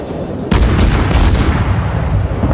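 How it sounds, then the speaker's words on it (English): Naval gun salvo firing in World of Warships, a sudden loud blast that cuts in and rolls on as a heavy, sustained boom. "We're going to slow down, see if we can get one more salvo in."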